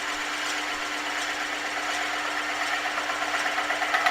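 A lathe texturing tool held steady against spinning wood, cutting a reference groove: a steady, fairly loud whirring buzz with a faint rasp that stays constant throughout, no voices.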